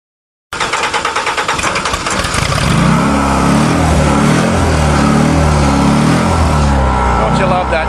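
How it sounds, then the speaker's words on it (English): A carbureted engine with no back pressure and dual exhaust on a yellow super tanker cranks in quick rhythmic pulses, catches, and settles into a loud, throaty idle with revving, close by, with talk faintly beneath. "Don't you love that stereo sound coming from that dual exhaust?"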